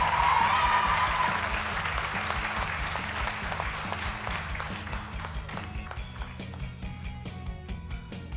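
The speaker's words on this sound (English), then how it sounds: "Let's applaud him also as well." A school audience applauds the second-best debater of the year at a debate finale, loud sustained clapping that starts strong and slowly thins into scattered claps.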